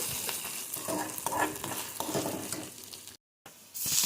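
Finely chopped onions fry in a pan, a dense crackling sizzle with scattered stirring scrapes, steady and close, briefly cutting out to silence before resuming, no speech.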